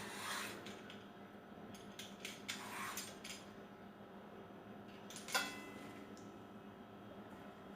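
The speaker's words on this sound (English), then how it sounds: "So peel the skin with the help of a peeler." Soft scraping strokes of a peeler removing the skin from a bottle gourd, faint and intermittent with a few sharper clicks, in a quiet kitchen.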